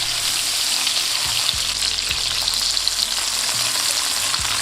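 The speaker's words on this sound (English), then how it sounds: "we're gonna start basting it with butter" Chicken breast sizzles loudly in a pan of butter with garlic and rosemary, a dense, steady frying hiss with small pops and occasional scraping as the butter is tilted and spooned.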